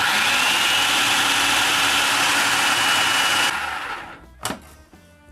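A mixer or blender whirs loudly and steadily for about three and a half seconds while mixing oat fiber, salt and xanthan gum, then stops, followed by a few light clunks.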